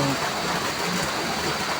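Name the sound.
rain falling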